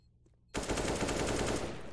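Gunfire in a Counter-Strike match, Bad News Eagles versus forZe: after a short quiet moment, a loud, rapid automatic burst erupts and continues without a break.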